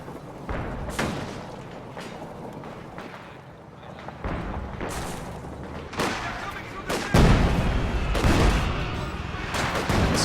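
An Su-76 artillery barrage in Company of Heroes pounds a house, with repeated booms and thumps of varying strength layered under a commentator's voice.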